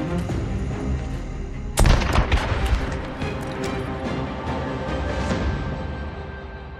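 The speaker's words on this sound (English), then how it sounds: "I gotta shoot the bike." Gunfire aimed at a motorbike in the video game Days Gone: a sudden loud blast followed by a rapid cluster of shots that fades into a lingering rumble and ambient noise.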